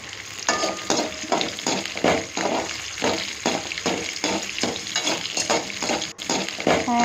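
Chana dal, urad dal and green chili fry in a pan over medium flame, giving a steady sizzle broken by a regular run of stirring scrapes, close and fairly loud throughout.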